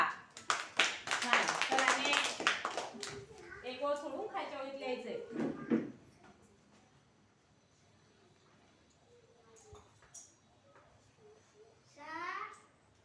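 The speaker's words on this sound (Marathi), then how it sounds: "व्हेरी गुड टाळ्या" Second-grade schoolchildren clap together in a classroom for several seconds, a dense burst of hand claps mixed with small voices that then fades into a quiet room with faint chatter.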